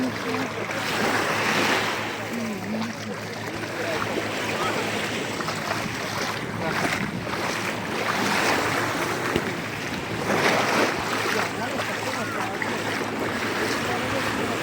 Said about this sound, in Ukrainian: Море дуже спокійне.